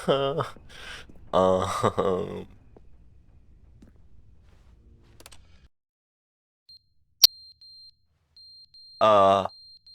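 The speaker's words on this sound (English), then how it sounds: "Is that a smoke detector?" Smoke detector alarm in The Stanley Parable: Ultra Deluxe video game, a single sharp high chirp followed by a faint thin steady tone, with someone speaking before and after.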